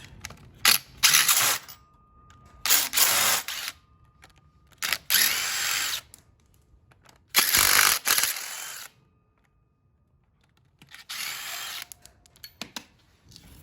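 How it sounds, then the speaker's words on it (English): Ratchet or power driver backing out 10 mm thermostat bolts on a Honda Accord K24 engine, in several loud close bursts of whirring a second or two long, separated by short quiet gaps. "we just have to take off the thermostat, 10 millimeter bolts."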